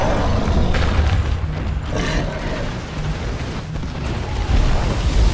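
A turret blown apart in the Evolve video game: heavy booming blasts and crunching debris rumble loudly, with a burst near the start and more explosive thuds toward the end.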